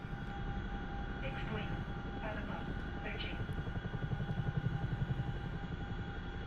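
An Mi-24 Hind attack helicopter in the DCS World flight game drones with a steady, dense engine and rotor roar throughout, with a faint voice and a few brief tones over it.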